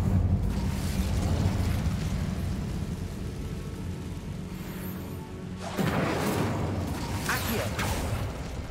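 A fire spell cast in the game Hogwarts Legacy: a steady roaring rumble gives way to a sudden louder burst of crackling flame with sharp high flares near the end.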